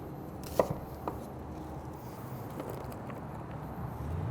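A knife strikes a cutting board a few times, sharp sparse chops through a yellow onion being cut into large wedges, set against a steady low room hum.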